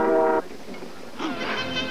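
A train horn sounds in a trailer for the 1976 film Silver Streak. One loud, clear harmonic blast is followed by a pause, then a second, brighter blast that runs to the end.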